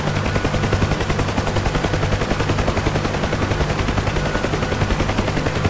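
Rapid machine-gun fire from an aircraft in a flight combat video game, a steady, dense rattle of shots running continuously and loud over a low engine drone.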